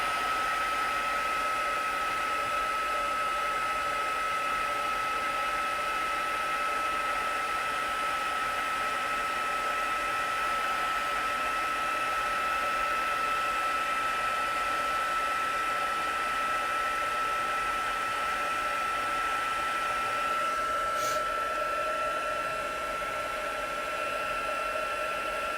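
A handheld heat tool warms up and blows hot air in a steady, loud, continuous whoosh with a faint whine, running alone the whole time with a slight tonal shift near the end.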